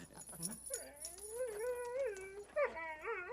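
Dogs whimper and whine in high, wavering cries, several drawn-out rising and falling whines close by in a comedy film scene.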